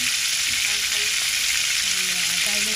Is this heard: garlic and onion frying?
yes